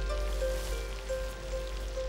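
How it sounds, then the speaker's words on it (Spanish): Heavy rain pours steadily onto jungle foliage in a red rainforest, a dense continuous hiss with no voices, holding at an even level throughout. "no para de llover"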